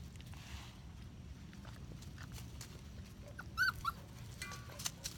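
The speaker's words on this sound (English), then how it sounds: "Puppies everywhere." Soft, high-pitched whimpers from puppies, a couple of brief cries over a low background rumble and faint shuffling.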